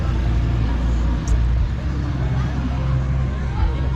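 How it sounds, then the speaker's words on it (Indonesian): Motorcycle and street traffic drones steadily along a busy road near a car-free-day gathering in Padang, with engines humming past amid crowd chatter and a continuous low rumble. "Tapi di sini masih banyak motor yang lewat ya."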